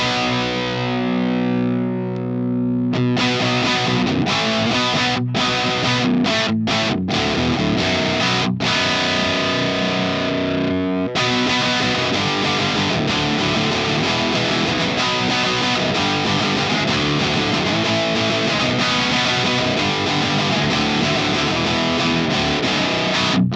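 Crunchy distorted electric guitar from an ENGL Powerball II amp with the bright switch on, in a low drop-B tuning, playing loud continuous chugging riffs with a brief pause near the start and sizzling upper harmonics throughout.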